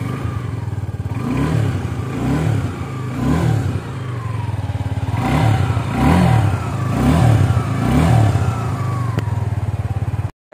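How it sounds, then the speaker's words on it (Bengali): A Suzuki Gixxer 250 BS-VI motorcycle runs close by with a loud, throbbing exhaust note and is blipped through about eight rising and falling revs in a regular rhythm. "চলো তোমাকে এদের এক্সজস্ট নোটটা শোনানো যাক"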